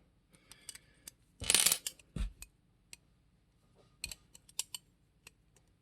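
Light metallic taps on a knife pivot during fine adjustment, a sparse series of small clicks with a brief denser clatter near the middle, close and fairly quiet.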